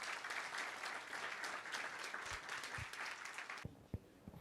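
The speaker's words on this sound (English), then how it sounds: "A big applause to everybody here." A conference audience at a session on CCAM and connectivity applauds for about three and a half seconds, many hands clapping at once, then the clapping stops abruptly, leaving a few faint thumps and room noise.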